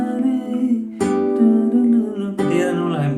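A suspended fourth chord played under the vocals of a song, with sustained harmonic chords and a sung melody line, restruck a few times and loud and close.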